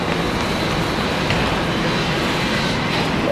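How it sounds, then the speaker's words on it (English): Commuter train on the Ronkonkoma line rumbles steadily nearby, with constant rail noise and a faint wheel squeal near the end. "This is what the Ronkonkoma train looks like."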